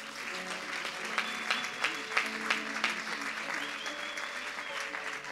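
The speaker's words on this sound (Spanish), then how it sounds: "¿Alguien necesita aplaudir?" Church congregation applauding during a Sunday prophetic service, steady crowd clapping at moderate distance with scattered sharper claps standing out and a faint murmur of voices beneath.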